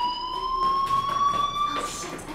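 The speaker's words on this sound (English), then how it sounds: "do you hear that fire alarm? That means you should be outside." A fire alarm rings steadily in the video game Life Is Strange, a continuous high electronic tone with harmonics sounding throughout, moderately loud with faint background activity.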